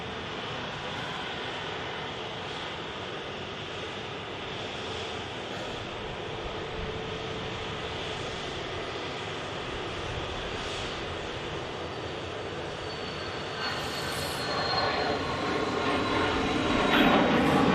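A Phenom 300 business jet rolls for takeoff at Manchester Airport, a broad steady engine roar heard from a distance that swells louder toward the end as the aircraft climbs away.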